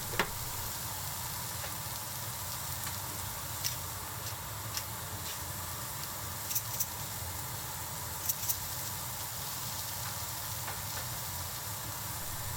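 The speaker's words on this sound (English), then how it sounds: "Continue frying until they become soft." Steady, quiet sizzling of vegetables frying in a pan, with occasional small pops and ticks throughout.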